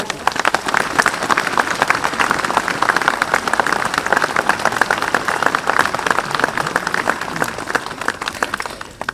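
An outdoor commemoration ceremony audience at Dražgoše claps in a loud, dense round of applause that continues steadily for several seconds, close and full.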